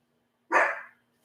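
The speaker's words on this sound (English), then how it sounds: "My little dog gets jealous that I talk to other people, so she's out there barking at me" A small dog named Callie gives a single loud, close, sharp bark indoors, followed by silence.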